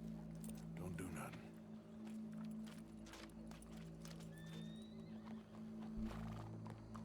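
Horse hooves clip-clop in Red Dead Redemption 2 amid an outdoor crowd scene, faint and irregular, with steady low ambient hum and people talking over them.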